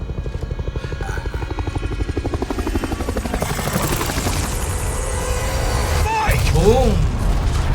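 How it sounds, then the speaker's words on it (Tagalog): A helicopter explodes in the video game Resident Evil 4 Remake, with steady rotor chopping giving way to a loud, booming blast and chaotic rumble near the end, while people talk over it. "Hinihintay niya sumabog muna yung helicopter bago siya lumabas."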